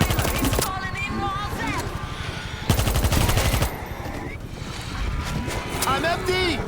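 Rapid bursts of automatic gunfire crackle in World War Z: Aftermath, a zombie shooter, coming in dense salvos at the start and again around the middle over a steady bed of game noise, with voices talking throughout.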